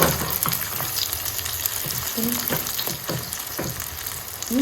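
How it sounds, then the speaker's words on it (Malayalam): Food fries in hot oil as the pieces are turned, giving a continuous close sizzle with occasional soft clinks and stirring scrapes, no talk. "ഇങ്ങനെ പൊരിച്ചെടുക്കാം അതാ തിരിച്ച് മറിച്ചൊക്കെ ഒന്ന് ഇട്ട് കൊടുത്ത് വെക്കുക"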